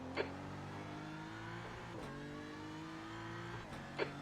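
Several faster race cars in a racing video game close in and sweep past, a layered roar of engines with rising and falling pitch as they overtake, sharp bursts at the start and end.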